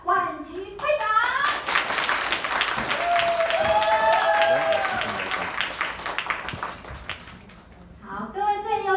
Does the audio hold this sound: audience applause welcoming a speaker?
yes